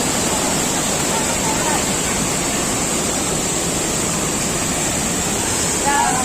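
Loud, steady rush of river water at a swimming spot, a dense unbroken roar close by with no pauses, and faint voices barely rising above it.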